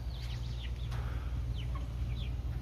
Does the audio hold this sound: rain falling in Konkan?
no